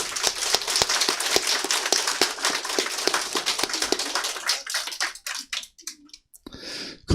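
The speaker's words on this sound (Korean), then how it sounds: "힘내시라고 박수 한번 해주세요." An audience at a Our Republican Party meeting claps in encouragement, a moderately loud patter that thins into a few scattered claps and fades out.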